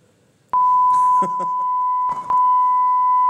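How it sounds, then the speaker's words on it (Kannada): A steady censor beep on a Bigg Boss Season 2 TV episode, a sustained electronic tone held loud for nearly three seconds with a brief break, briefly broken by clicks and faint background sound. "ಇದು ಕರೆಕ್ಟ್ ಬೀಪ್ ಸೌಂಡ್"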